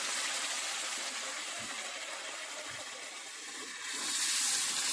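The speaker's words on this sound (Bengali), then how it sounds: "অল্প করে একটা জল দিয়ে দেবো মশলাটা নিচে না ধরে দেবো" Water poured onto masala spice paste frying in a pan sets off a steady loud hiss and sizzle that holds throughout and swells slightly louder at the end.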